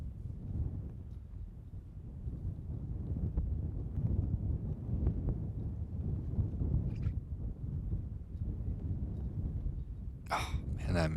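Wind buffets the microphone outdoors at a bowling event in a left-to-right crosswind, a steady low rumble with gusts throughout, and a brief higher sound rises near the end.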